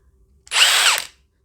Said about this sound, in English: we've got this mid-torque Milwaukee wrench, but it's got an issue